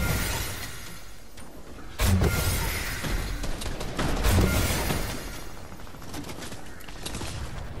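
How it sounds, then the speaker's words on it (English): Fortnite gunfire rattles in bursts and sharp impacts as the player is shot, with loud hits around the middle, over a rough game background and no clear speech. "I'm getting shot from behind or in front. I'm getting lit up."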